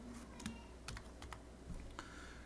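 Quiet, close keystrokes on a computer keyboard, a short run of separate taps with small gaps between them, alone and without speech.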